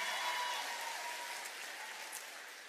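An audience at an unplugged concert applauds with a faint, steady wash of clapping throughout.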